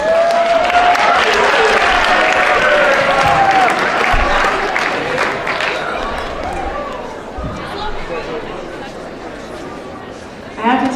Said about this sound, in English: how much you guys cheer for each other